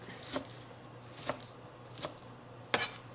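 A knife chops ingredients for a green smoothie on a cutting board in a kitchen, four separate sharp cuts spaced about a second apart over a low steady hum, with nobody talking.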